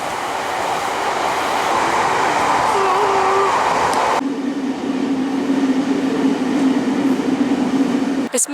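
A UK commuter train rides along the tracks with a steady, loud rumble filling the whole stretch, and the tone shifts midway as the carriage sound changes. Faint squealing and low drone run through it.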